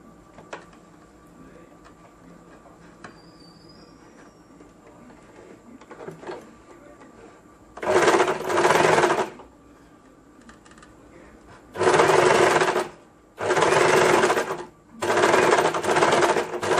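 A sewing machine stitches two blouse pocket pieces together in four loud bursts of a steady whirring run, separated by quiet pauses, the first about a second long and the later ones closer together.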